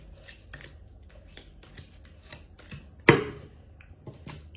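A deck of playing cards is cut, heard as soft rubbing and shuffling rustles with one sharp, loud card snap in the middle.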